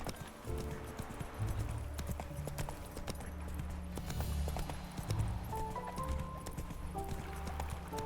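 Roach, Geralt's horse in The Witcher 3, clip-clops along with steady rhythmic hoofbeats, close and clear, with a brief whinny mixed into the game sounds.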